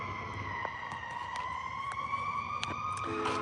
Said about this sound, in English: here are the sirens